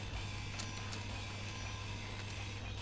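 A grinder tool dismantling an antenna in the Space Engineers video game gives a steady, continuous mechanical whirring with a faint ratcheting texture and a low hum underneath, heard alone without talk.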